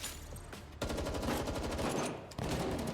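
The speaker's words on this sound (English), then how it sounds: "Now, the sounds of gunfire, thuds, and footsteps." Rapid, sustained bursts of gunfire in the video game Girls' Frontline 2: Exilium, loud and close, with a brief pause before the shooting resumes.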